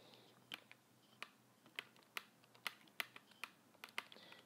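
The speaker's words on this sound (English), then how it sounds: "now let me just type that in our calculators" Numbers being typed into a calculator, a quiet, close series of sharp individual key clicks at an irregular, fairly quick pace, with low background hum.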